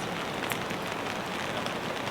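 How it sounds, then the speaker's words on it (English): Dense rain drums on a tarp at a camp in the New Zealand mountains, making a loud, continuous hiss with scattered sharper drop hits. No one speaks. "I'm going to sit here and relax under the tarp and watch the rain"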